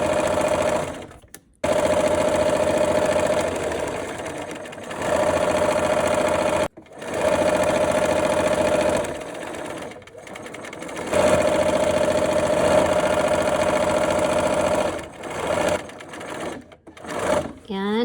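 A sewing machine stitches a seam on a patriotic flag quilt, running in long loud steady stretches broken by short stops, with talk in between.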